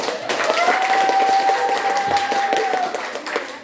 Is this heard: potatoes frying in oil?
no